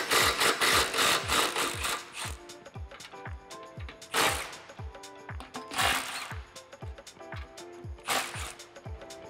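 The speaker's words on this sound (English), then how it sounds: "grab a 15mm deep socket. We're gonna loosen up, but not completely remove, the nuts on both of the band clamps here" A 15mm deep socket on a ratchet loosens the band clamp nuts on a 2015-2017 Mustang GT exhaust, producing a steady run of close, rhythmic ratchet clicks broken by a few louder, noisier bursts of wrenching.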